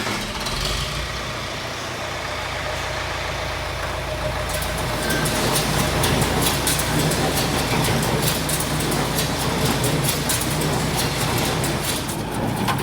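A hay baler running in a field after a slip clutch repair, a loud steady mechanical drone with rhythmic clattering that builds as it works, with no talk.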